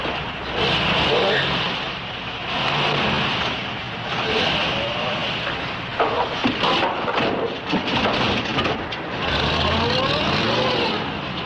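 A truck engine rumbles and revs as the vehicle pulls away on the road, loud and steady with surges of acceleration, while brief voices come through over the motor.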